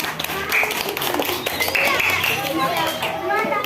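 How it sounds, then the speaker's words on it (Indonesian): Children in a classroom clap for a classmate in a short, scattered burst. Lively chatter and kids' voices run over and around the clapping throughout. "tepuk tangan untuk Tia."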